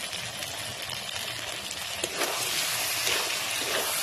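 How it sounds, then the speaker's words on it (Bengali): Chopped tomato is added to meat already browned in oil and sizzles loudly in the pan. The frying hiss thickens and grows busier partway through as the mixture is stirred. "কেটে রাখা টমেটোটা দিয়ে ভালো করে একটু কষানো"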